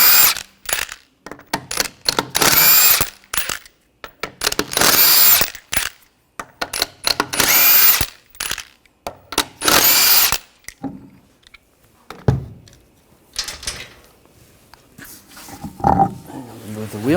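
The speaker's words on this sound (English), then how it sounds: "Remove the wheel, use a 21mm socket." A power tool, likely an impact wrench with a 21mm socket, loosens the wheel on a Nissan Rogue in loud, repeated bursts of drilling whine, then falls quiet with a few faint clanks near the end.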